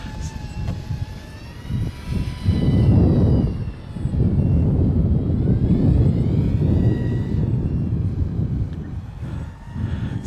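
A JJRC JJPro P130 Battler FPV drone flies around outdoors with a steady high whine of small propellers and motors that rises and shifts in pitch, loud and continuous over wind noise, with no talk.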